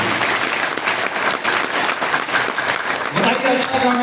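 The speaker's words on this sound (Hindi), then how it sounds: "एक जोरदार तालियां होनी चाहिए ऐसी संस्था की।" Audience applause at a motivational business event in India, a loud, dense burst of clapping from a crowd, continuous for a few seconds with some tonal voice sounds near the end.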